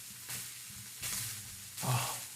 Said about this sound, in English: Can you hear the sizzles?